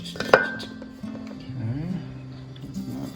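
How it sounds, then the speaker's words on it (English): Apples tossed with sugar and nutmeg in a mixing bowl for a bourbon apple pie filling, giving a sharp clink of utensil on the bowl followed by soft, steady stirring and rustling at close range. "Mix the apples up."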